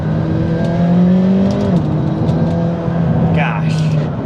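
A Lamborghini Gallardo engine revs as it accelerates, a loud close drone that holds, dips and then climbs in pitch near the end, with a voice talking over it.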